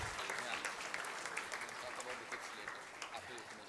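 An audience at a Brahma Kumaris talk claps steadily, a dense, continuous round of applause that holds fairly even throughout.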